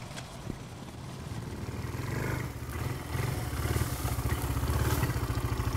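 A Sachs 650 four-stroke single motorcycle is ridden along country lanes, its engine thumping in a rapid steady pulse that builds slightly louder as it accelerates, with wind noise and no talking.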